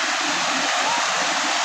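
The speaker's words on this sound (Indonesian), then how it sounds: "Air terjun kecil." A small waterfall at Taman Rimba Riang lake park pours steadily, a constant rushing hiss of falling water heard up close with no other sounds.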